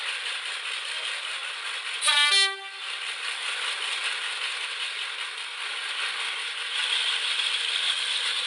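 A train rumbles past at a distance with a steady hiss, and a short horn blast sounds early on.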